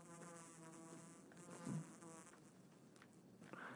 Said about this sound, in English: Hey, I hear that buzzing.